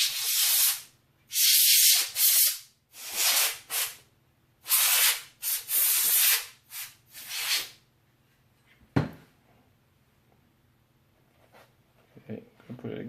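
Compressed air blown over laptop parts during a Yoga Pro 2 WiFi card replacement: a series of loud, hissy bursts, some short and some a second or more long, followed by quieter handling noises and a sharp click.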